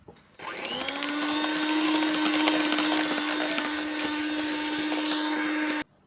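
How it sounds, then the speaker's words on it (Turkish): An electric hand mixer whisking eggs, sugar and sunflower oil for a walnut cake, a steady close whirring drone with a constant motor pitch that starts abruptly and runs alone for about five seconds before switching off. "Çırpmaya devam ediyorum."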